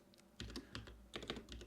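Keys clicking on a computer keyboard as a folder name is typed, short bursts of quick, close taps with brief pauses between groups.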